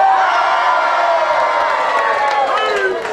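Alumni crowd at a college building dedication cheers, whoops and screams loudly and continuously, a dense close roar of many voices.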